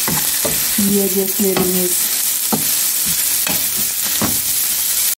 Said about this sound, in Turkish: Şimdi böyle güzelce bir karıştıracağız.